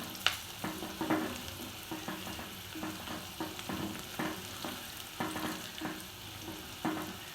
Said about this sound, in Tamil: நல்லா வெங்காயம் இது நல்லா வேகட்டும்.